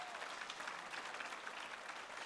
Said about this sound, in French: Je vais applaudir si vous avez une expérience avec Adonai.